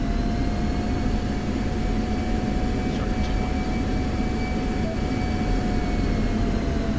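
An F-16C fighter jet in the DCS flight simulator idles and spools on the runway at night before takeoff, giving a steady, loud engine roar with a whining tone, with no other sounds.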